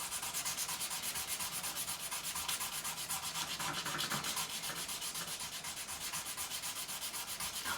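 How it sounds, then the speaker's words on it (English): Frets on an Epiphone Les Paul Standard are rubbed and polished with quick, even back-and-forth strokes, a steady close scratching rasp that continues without pause and without speech. "So in effect, I'm polishing 176 frets altogether."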